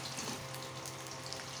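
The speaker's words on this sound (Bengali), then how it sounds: "তেলটাও গরম হয়ে গেছে, একটু লাল করে ভেজে নেব কড়া করে।" Silvercap fish fry in hot oil with a steady, soft, broadband hiss and faint crackle that lasts briefly without a break.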